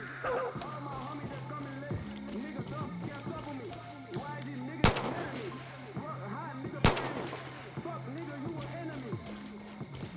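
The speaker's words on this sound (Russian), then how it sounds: "Вот, наверное, животных с дробовика надо валить." Two sharp, loud shotgun blasts about two seconds apart ring out in the video game Far Cry New Dawn, fired at wild animals outdoors over a steady background of game music and ambience.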